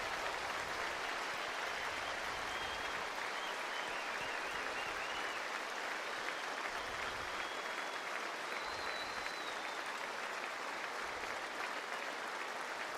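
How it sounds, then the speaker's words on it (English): A football stadium crowd at Doak Campbell Stadium applauds steadily during a college game between Kent State and Florida State, a dense, even wash of distant clapping that holds for the whole stretch without breaks. "crowd clapping."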